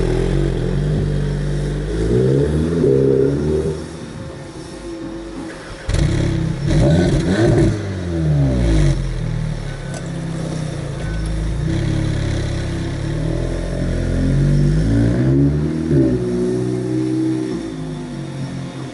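An Audi S3 and a VW Golf R, sharing the same engine, rev loudly in repeated bursts, their pitch sweeping up and falling back with a raspy exhaust note and brief clattering between pulls.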